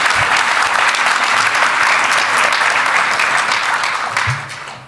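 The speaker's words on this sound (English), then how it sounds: "the audience applause did seem both generous and genuine" Applause from a conference audience fills the room, a dense, steady clatter of many hands clapping close and loud, fading slightly at the end as a low voice begins.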